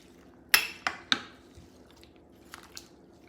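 Cucumber rings are stirred in a liquid-filled pitcher of lime mixture, producing a few sharp sloshing clacks against the container and then softer taps and splashes, close and with gaps of quiet between them.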